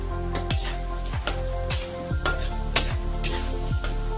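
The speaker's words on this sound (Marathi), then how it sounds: "छान लसूण, मिरची आणि आलं हे छान भाजून घ्यायचे आपल्याला" Chopped garlic, ginger and chili sizzling as they roast in oil in a pan, a steady loud frying hiss broken by repeated scraping stirs of a spatula at a regular rhythm.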